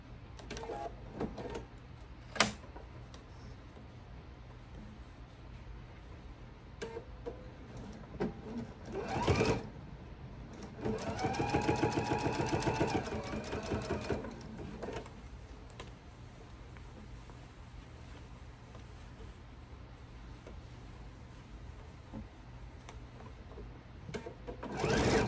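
A domestic sewing machine set down into a table stitches fabric for a thread catcher, with quiet ticking and handling noises, then a brief motor burst near ten seconds and a longer steady run of stitching in the middle, no talking.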